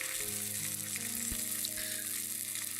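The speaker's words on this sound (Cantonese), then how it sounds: "我哋先煎個皮，煎香個皮先" Chicken pieces fry skin-side down in hot oil with a soft, even crackling sizzle that holds steady throughout, fairly quiet, over a faint low hum.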